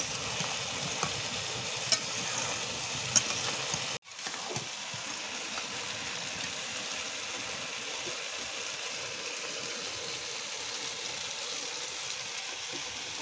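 Fatty beef and potatoes with spices frying in a pan for a beef bhuna, a steady close sizzle and crackle throughout, broken by one brief sharp drop in sound partway through.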